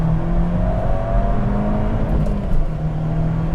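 A Fiat 124 Spider Abarth's engine accelerates and revs hard through a gear, a continuous loud whirring roar heard from inside the car, rising and steady with no voices.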